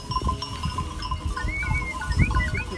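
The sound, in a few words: sheep bleating in pasture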